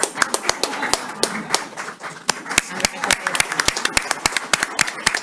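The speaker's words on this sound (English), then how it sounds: "Can your wife and kids stand up so we can give them an applause?" Scattered hand claps ring out in a board meeting room as the audience applauds a new appointee's wife and kids, crisp individual claps in an uneven rhythm, fairly close.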